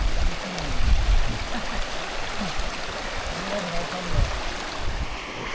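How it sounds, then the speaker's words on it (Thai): Steady broadband rush of river water flowing continuously at a riverside spot in rural Laos where villagers search for crabs, with low voices murmuring underneath. "มานั่งกินข้าวฟังเสียงน้ำไหล"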